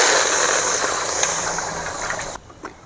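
Washed chana dal hits a hot pan, setting off a loud, broad sizzling hiss that fades gradually, then cuts off sharply near the end, leaving a quieter stir.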